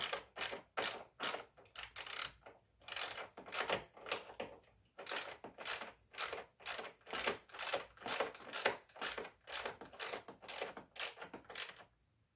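Repeated ratcheting clicks from tightening a screw during a battery change on a 2023 Honda Goldwing Tour, a steady rhythm of close, crisp mechanical bursts with short pauses between strokes.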